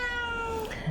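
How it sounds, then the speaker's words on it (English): A house cat gives a single drawn-out meow, close and clear, with a falling tone and a faint soft sound at the very end. "That's my cat, Stella."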